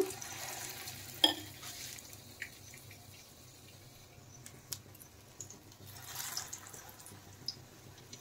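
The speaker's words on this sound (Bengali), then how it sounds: "এখন এর মধ্যে আমি ব্রেডগুলো ঢুকাবো এইভাবে, আর তেলে এইভাবে ছেড়ে দেব।" Bread slices dipped in batter drop into hot oil and fry, giving a soft, steady sizzle with a sharp splash or clatter near the start and a few scattered utensil clicks, fairly quiet throughout.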